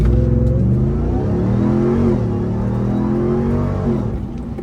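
Ram TRX V8 engine accelerating, a loud deep rumble rising steadily in pitch and then easing off at the end, heard close from inside the cabin with no talk over it.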